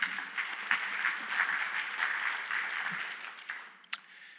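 Conference audience at a software developers' lightning talk session applauding as the next speaker comes up, a moderate, steady patter of many hands lasting several seconds before tapering off, with a brief sharp clap near the end.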